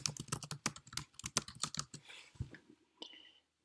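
Rapid keystrokes on a computer keyboard as a title is typed, a dense run of close, crisp clicks for about two seconds, then a few scattered taps and a short mouse click near the end.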